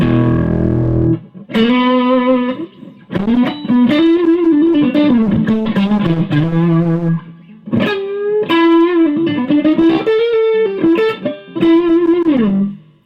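An overdriven electric guitar through a blues amp plays a bluesy run of sustained, bent notes with gritty distortion, loud and close, with brief pauses between phrases.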